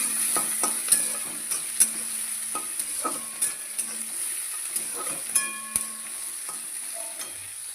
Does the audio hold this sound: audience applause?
no